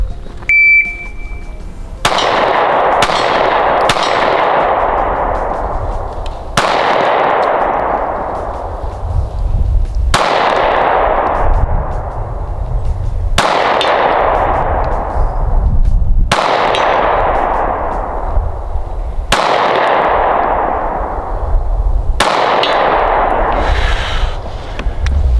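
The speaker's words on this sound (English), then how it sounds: "this gun is not made to shoot really long distances like that. It's a carry gun." Pistol shots from a Canik MC9 carry gun ring out one by one at steel targets, each loud crack followed by a ringing metallic clang that fades, about nine shots at an uneven pace.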